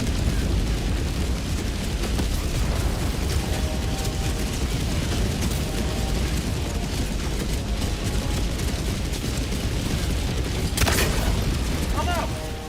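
Orbital strike explosions from the Helldivers video game, a dense continuous rumble of booms and blasts with a sharp burst near the end, loud and sustained with voices and game chatter mixed in.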